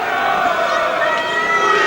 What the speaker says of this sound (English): there's a pretty excited crowd here tonight at the NEC in Birmingham, awaiting the entrance of the big man